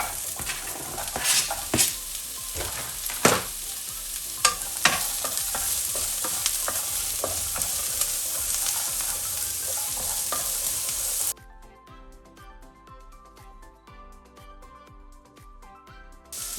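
Steady sizzling and spatula scraping as carrot, cucumber and other vegetables stir-fry in a frying pan, close and continuous, then the sound drops suddenly to a quieter, softer sizzle for the last few seconds.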